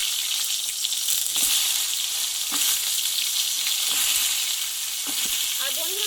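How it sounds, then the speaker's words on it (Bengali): Cut pointed gourd frying with turmeric in hot mustard oil makes a steady, bright sizzle, with occasional light clicks and scrapes of stirring near the pan. "এখানে কেটে ধুয়ে রাখা পটলগুলো আমি এবার এই তেলে কষে নেবো"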